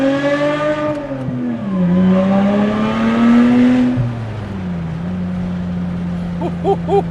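A Lotus Evora sports car engine revs up close, drops in pitch through a gear shift, climbs again, then settles into a steady drone after a second shift, loud and unaccompanied by talk.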